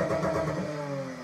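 A BMW E30 325i engine revving briefly, a loud wavering mid-pitched growl that rises and then settles, with no talk over it.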